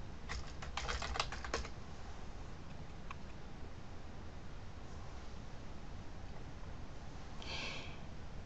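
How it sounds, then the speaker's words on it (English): Quick bursts of typing on a computer keyboard near the start, a few scattered keystrokes later, faint under steady background hiss. "I need to type in my BuzzIn username and password"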